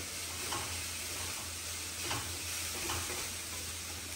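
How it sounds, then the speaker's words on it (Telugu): Onions frying in a pan give a steady, soft sizzle while a spoon stirs them with a few scraping strokes. The sound is fairly quiet and close, with no talking. "ఇది కొంచెం ఆనియన్స్ బ్రౌన్ ట్రాన్స్పరెంట్ అయ్యేదాకా మనం ఇలా ఉంచనివ్వాలి, ఇట్లా కలుపుతూ ఉండాలన్నమాట"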